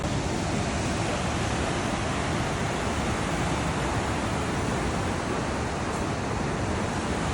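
Steady, loud rush of a large waterfall, continuous broadband roar of churning water filling the whole clip with no voices over it.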